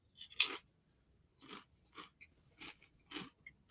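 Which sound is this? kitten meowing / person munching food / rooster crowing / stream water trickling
person munching food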